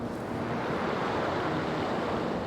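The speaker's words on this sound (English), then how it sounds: "the water's hitting the bottom of the wall" Sea water from the Bristol Channel washing against the bottom of a wall near high tide, a steady broad surging wash mixed with wind noise, fairly loud and continuous with no talk.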